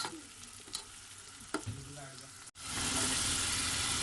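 Cumin and spices frying in a pan for Urdu/Hindi potato curry (aalu ka salan), scraped and stirred with a few knocks, then after a brief break a loud, dense, continuous sizzle fills the rest.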